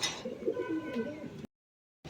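Domestic flying pigeons coo softly and low in a steady murmur, ending abruptly in a stretch of silence before the sound briefly returns.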